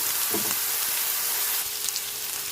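Samgyeopsal pork belly sizzles steadily in a pan, a loud, even frying hiss with a few faint pops and spatters throughout.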